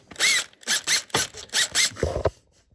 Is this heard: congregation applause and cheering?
no